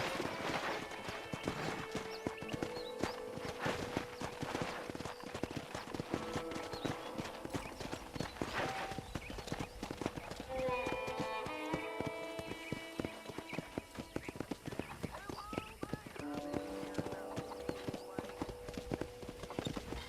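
Steady clip-clop of horse hooves at a walking pace in Red Dead Redemption runs throughout, mixed with game music and occasional speech in the background.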